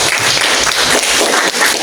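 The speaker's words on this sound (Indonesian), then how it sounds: "tepuk tangan untuk kelompok 1." Classroom applause for group 1 in a teacher-training performance test, a short burst of many hands clapping that fills the whole clip without a break.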